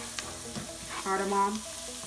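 Coriander, cinnamon and cardamom hit a hot pan for tofu tikka masala, giving a close, steady sizzle and crackle that swells midway, with faint stirring clicks and no talk.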